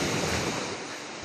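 Steady broadband wash of sea surf inside a sea cave on an island, a constant rushing roar that fades slightly toward the end, with no voices.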